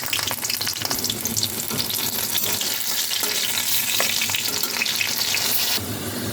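Dried red chillies, garlic and green chillies frying in hot oil after brinjal, a loud, steady close-up sizzle and crackle with occasional stirring.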